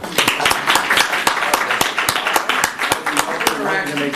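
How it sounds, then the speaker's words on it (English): An audience at a school board meeting claps in quick, distinct, fairly loud strikes for several seconds, with voices talking over the clapping. "Clap if you think we should keep doing this."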